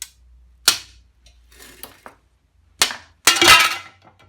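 Scored glass disc cut from a washing machine door porthole snaps apart in a few sharp, close cracks and clinks, separated by quiet pauses, ending in a louder crunching break.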